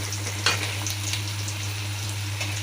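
Green chillies and a pinch of asafoetida sizzle steadily in hot oil, with a bright, crackling fry and a few stirring scrapes. A low electrical hum sits beneath, and nobody speaks.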